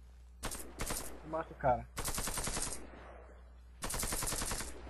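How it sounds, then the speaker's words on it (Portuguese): Short bursts of rapid automatic gunfire in the video game Warface, five to ten shots each, loud and sharp, separated by gaps, with someone briefly speaking between them. "dá aquela rajadinha lá de 5 a 10 tiros"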